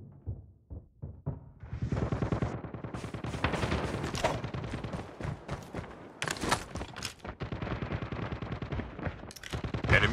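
Sentry gun gunfire in the mobile shooter Call of Duty Mobile: loud rapid bursts of automatic fire, near and sustained, with a few separate shots and clatter, no talking.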